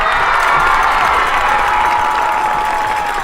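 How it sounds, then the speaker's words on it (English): A crowd in the stands at a high school football game applauds and cheers loudly for a player honored during a homecoming king presentation, a dense continuous roar of clapping with scattered shouts. "Got a big applause from the crowd"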